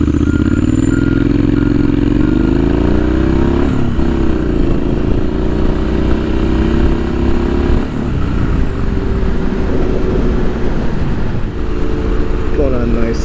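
A Triumph Street Scrambler motorcycle rides along with a loud, steady engine drone and shifting pitch as it accelerates, heavy wind rush over the whole ride.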